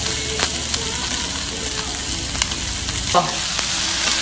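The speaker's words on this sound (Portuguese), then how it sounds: "Eu vou jogar um pouquinho de água." Grilled octopus sizzles in a hot pan as a little water is poured in, a steady loud frying hiss with occasional crackles and clinks, and a brief voice exclamation.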